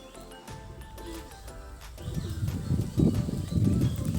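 Pigeons coo with low, throaty, repeated calls that grow louder and busier toward the end, with faint flutters and background sounds earlier.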